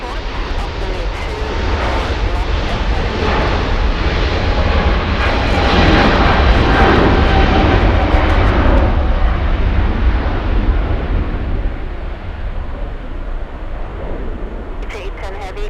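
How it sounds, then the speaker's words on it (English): A Chinese Boeing 777 roars down the runway on takeoff at LAX, a loud sustained jet rumble that swells and then eases slightly, with faint voices underneath. "We'll go for the Chinese 777 racing down the runway"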